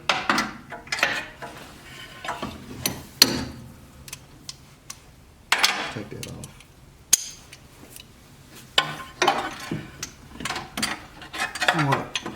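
Intermittent clicks and metallic taps of a ratchet wrench working near the steering shaft in the engine bay of a 1981 Pontiac Turbo Trans Am barn find, scattered in short bursts with pauses, fairly close.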